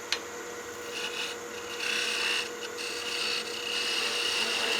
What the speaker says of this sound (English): we continue to roll that skew to a vertical position to end the cut.